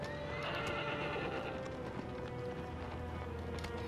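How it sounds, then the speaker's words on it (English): Horse in Shadow of the Colossus galloping with steady clip-clop hoofbeats and loud whinnying neighs, continuous and close throughout. "this horse ain't running fast as it can run"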